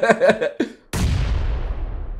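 A grenade explodes in the video game PUBG Lite with one sudden loud boom and a long rumbling tail fading away, right after a few words of speech.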